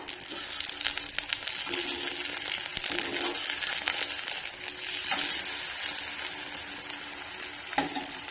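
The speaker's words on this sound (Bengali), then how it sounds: "এখন হচ্ছে এখানে ডিম ভাজা" Eggs frying in a pan for a double-egg omelette, a steady bright sizzle that crackles on throughout with a few faint clinks and stirring sounds, close and without talk.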